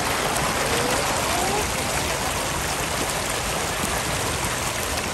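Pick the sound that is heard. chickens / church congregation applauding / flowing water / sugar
flowing water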